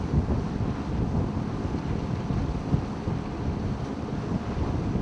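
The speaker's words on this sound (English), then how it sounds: "Just a bit of wind strength." Steady wind rushes past the microphone while a yacht sails in the Hauraki Gulf, a loud continuous buffeting roar with a faint wash of water underneath and no voices.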